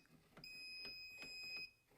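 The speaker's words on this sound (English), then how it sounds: "you hear random beeps" A circuit breaker finder beeps while learning circuits at a breaker panel, sounding a thin high steady tone with a few faint soft clicks, quiet and alone.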